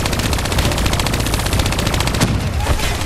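Turret in Call of Duty: Black Ops 3 firing a dense, rapid unbroken stream of loud gunshots for several seconds, close and harsh.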